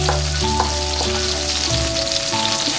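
Grated carrots fry in butter for carrot halwa, a constant close sizzle over a steady background hum of sustained musical tones, with no talking.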